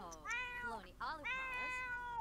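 A cat in The Sims 4 meows twice, loud and clear, as drawn-out tonal cries with a short gap between them.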